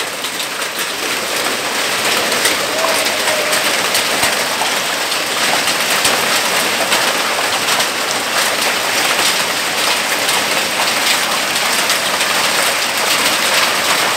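Hailstorm in a Vietnamese mountain village, hail pelting surfaces in a loud, dense, unbroken clatter, steady for the whole stretch with no voices over it.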